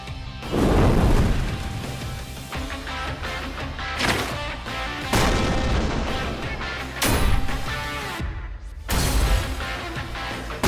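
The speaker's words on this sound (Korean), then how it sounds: "그렇게 차와 함께 폭발했나 생각이 들던 순간" A car blows up in a Chainsaw Man anime fight scene, a run of loud booming blasts and crashing bursts repeating every second or two over a dense, roaring rumble, with no talk.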